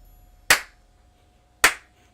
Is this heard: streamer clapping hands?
yes